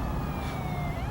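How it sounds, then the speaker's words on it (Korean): A police car siren wails in a tense thriller film scene, its steady rising and falling tone sounding over a constant low background rumble, with no speech. "곧이어 경찰의 사이렌 소리가 울려옵니다."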